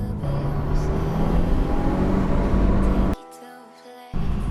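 A 2015-or-later Subaru WRX with an aftermarket exhaust drones in second gear near 5,000 RPM, heard from inside with the windows half open, a steady loud rumble that cuts off briefly near the end before returning.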